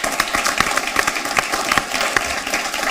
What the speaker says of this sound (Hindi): तालियां आपकी जारी रहें।